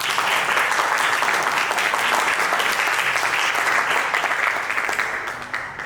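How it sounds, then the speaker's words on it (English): A seminar audience applauds steadily and loudly, a dense wash of clapping that holds for several seconds before thinning toward the end. "Let's give him a round of applause."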